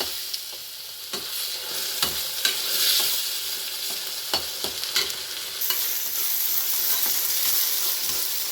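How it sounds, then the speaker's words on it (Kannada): Tomato and onion with ginger-garlic paste fry in a pan for a spinach and chickpea masala, giving a steady close sizzle broken by sharp clicks and scrapes of stirring, with no talk. "ಹಾಕ್ಕೊಂಡು ಟೊಮೆಟೊ ಮೆತ್ತಗಾಗೋವರೆಗೂ ಚೆನ್ನಾಗಿ ಫ್ರೈ ಮಾಡ್ಕೊಳ್ಬೇಕು"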